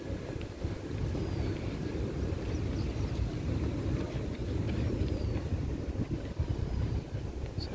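Fishing boats on the water give a steady low engine rumble, mixed with wind buffeting the microphone and a faint distant motor, continuous for several seconds with no voices.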